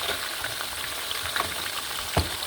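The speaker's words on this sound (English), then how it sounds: "oil is hot. I'll just put my sliced onion" Sliced onion sizzling in hot oil for a stew: a continuous close frying hiss with small crackles, a light stir or two and a short thump near the end.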